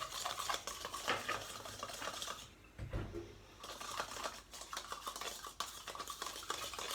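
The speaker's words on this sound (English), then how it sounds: "put half a teaspoon of salt in there and kind of mix it together with a teaspoon tool" A teaspoon stirs half a teaspoon of salt into a cup of water, producing quick continuous metallic scraping and clinking against the cup, close and fairly quiet, with a brief pause near the middle.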